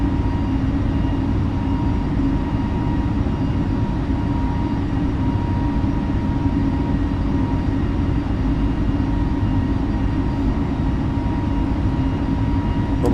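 Airliner engines roar at climb throttle in Microsoft Flight Simulator, a loud, steady drone with a low hum that holds unchanged and uninterrupted throughout.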